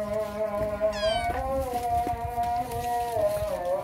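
A cat meows close by in one long, drawn-out wavering call with a rising and falling pitch, loud and clear over a low rumble of background noise.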